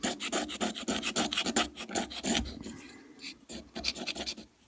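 A knife scrapes a magnesium block into shavings for fire starting, making close, dry, rasping strokes in quick repeated bursts with a short pause partway through.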